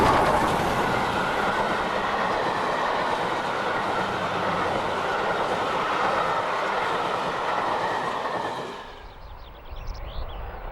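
A steam locomotive hauls a railtour train up a hard climb over the banks, heard as a loud, continuous rolling roar of carriages and wheels that fades sharply near the end.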